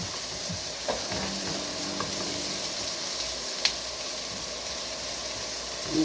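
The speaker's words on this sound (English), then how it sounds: "we're going to take the garlic and put that in" Three cloves of garlic sizzle steadily in a hot pan as a chili is cooked, a constant even frying hiss with a few faint utensil clicks and one sharper tap partway through.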